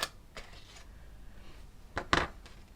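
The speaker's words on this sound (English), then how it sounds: "are they better for scissoring decals or not?" A few quick, crisp snips of small scissors cutting a decal sheet, with a soft cut early on and a sharper pair near the end, in an otherwise quiet room.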